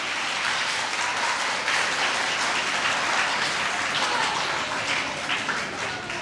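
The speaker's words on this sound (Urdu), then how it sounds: "میں چاہتا ہوں کہ ایک دفعہ ان کے لیے تالیاں، اور ان کے اساتذہ کے" An audience at a Lahore school assembly applauds for the young speakers and their teachers, a dense, sustained wash of clapping from many hands that holds steady for several seconds.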